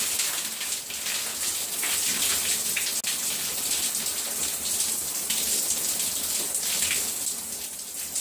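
Water streams steadily while rinsing hair on washday, a soft, continuous splashing hiss heard up close with no talk.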